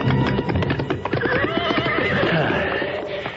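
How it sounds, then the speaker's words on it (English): Horses neighing and whinnying loudly and close, with hooves clip-clopping beneath, amid a radio drama soundscape. "Across the river there. Oh, horses."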